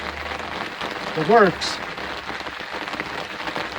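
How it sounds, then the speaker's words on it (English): Steady rain patters outdoors in muddy conditions near a robotic lawn mower garage, a continuous hiss under the scene with a brief spoken word partway through. "It doesn't know that it's raining out."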